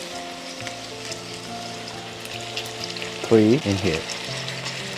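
Plain yogurt is stirred into a sizzling one-pot lamb white pulao, giving a loud, steady frying hiss with a few stirring scrapes. Soft music plays underneath, and a voice speaks briefly.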